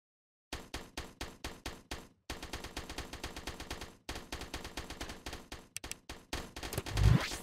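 Turrets in the tower-defense game Project Astra Dominium fire rapid bursts of gunfire, loud and rhythmic, in several volleys separated by short gaps, ending in a heavier blast.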